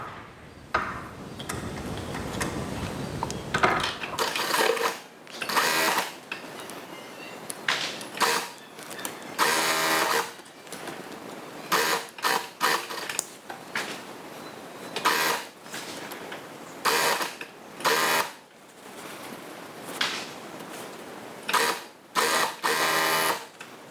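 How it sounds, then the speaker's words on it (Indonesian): A sewing machine stitches the side seam of a child's half-circle dress, running in repeated loud mechanical bursts separated by short pauses, with no talking. "Jahit bagian samping mulai dari ujung lengan seperti ini"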